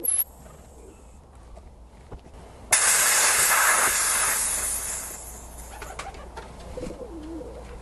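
Loud, steady air hiss rushes in partway through as an airgun is charged to 3,000 PSI, holding strong for a couple of seconds before tapering slowly into a quieter hiss.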